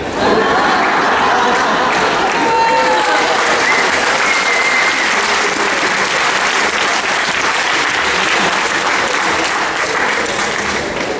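An audience at an international book fair talk bursts into loud, sustained applause. Dense clapping fills the room evenly throughout, with faint crowd voices mixed in.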